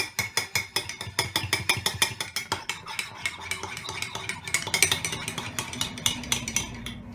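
An egg beaten briskly in a bowl for a microwave cake: rapid, evenly spaced clinks of a utensil against the bowl, close and steady, continuing for several seconds.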